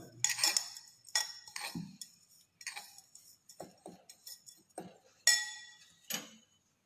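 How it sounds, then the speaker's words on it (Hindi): Food being mixed in a bowl in a home kitchen, with a metal utensil clinking and scraping against the bowl in irregular bursts, close and fairly quiet. "और इसको अपन अच्छे से मिक्स कर लेते हैं।"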